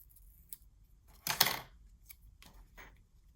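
Scissors snip through a journal sticker in one quick, close cut of a fraction of a second, set in an otherwise quiet room with a few small faint clicks before and after.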